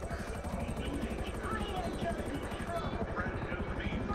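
A helicopter's rotor thumps steadily and loudly throughout in Grand Theft Auto V, a constant rapid chopping drone with engine whine layered over it.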